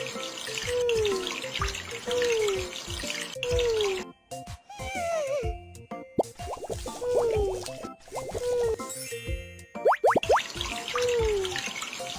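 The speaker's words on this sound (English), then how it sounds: "Let's shower him." Running water from a shower in a pet-care video game as a puppy is rinsed, a steady faucet-like splash with intermittent plops and drips over cheerful game music.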